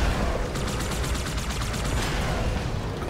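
Rapid, continuous turret gunfire in Halo 2 Anniversary, a dense, steady barrage of close automatic shots filling the whole stretch with no pauses.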